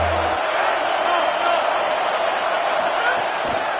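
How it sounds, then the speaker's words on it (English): A large stadium crowd at a college football game between Sac State and UCLA roars steadily on third down, a dense, sustained wash of noise that stays loud and even throughout with no clear breaks. "Decibels rising as the crowd gets behind this defense on 3rd down."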